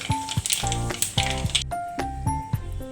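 Urad dal, chana dal, a dried red chilli and mustard seeds sizzle in hot oil with a rapid run of sharp pops and crackles, loud and close, with no talking.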